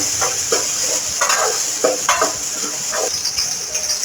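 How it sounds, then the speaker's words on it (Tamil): Tomatoes and onions sautéing in a pan for chicken gravy, with a steady sizzle of frying under repeated scraping, stirring strokes close by, no voices. "தக்காளி சேர்த்துட்டு நல்லா வதக்கிக்கலாம் ஃப்ரெண்ட்ஸ்."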